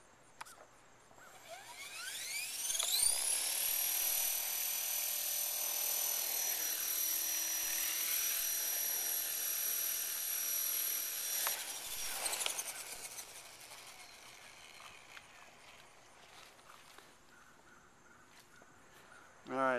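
EXI 450 RC helicopter held at idle up around 2300 RPM, a steady high-pitched rotor and motor whine that spools up, holds loud and close for about ten seconds, then winds down and fades.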